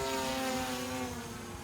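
A steady whining motor drone with a rising-then-falling tone as a DJI FPV drone flies past nearby, fairly loud and continuous.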